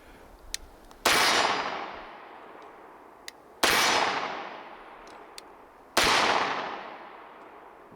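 Three loud, sharp shots from a Sig Sauer P220 Legion 10mm pistol firing full-load 10mm ammunition, spaced a few seconds apart, each with a long ringing outdoor decay and no talk.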